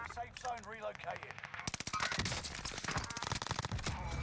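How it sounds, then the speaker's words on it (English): Rapid gunfire bursts in the battle royale game Call of Duty: Warzone on Rebirth Island, loud and dense cracks with sniper shots among them after a brief quieter stretch of game sound. "I got sniped at from the left."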